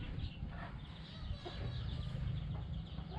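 Village chickens kept on a rural Vietnamese smallholding cluck softly and irregularly at close range, a few calls rising over a low rumbling background, with no talk.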